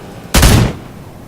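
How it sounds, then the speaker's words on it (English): A single short, loud burst from an aircraft's gunner-seat cannon in Arma 3, a dense blast lasting a fraction of a second before cutting off sharply. "aim, and I will shoot one of the aircraft"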